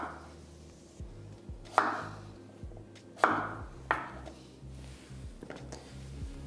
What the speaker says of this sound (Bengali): এবার আমি এখানে কেটে নিচ্ছি কুমড়োটা এখানে আমি এরকম ডুমো ডুমোই কেটে নিলাম